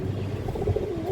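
A female pigeon coos softly, a brief low rolling call repeated a couple of times, close by amid faint background noise.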